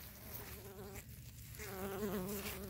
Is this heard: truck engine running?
no